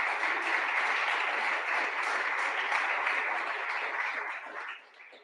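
Steady audience applause at a government funding announcement for a veterinary medicine faculty, a continuous even roar of many hands that fades out near the end.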